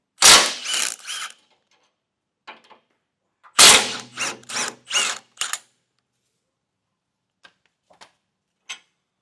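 Wrench work removing 15mm bolts from a 2024 Ford Bronco during a base plate installation, heard as two loud bursts of clicking, ratcheting metal with a few faint ticks between and after, close and with no talk.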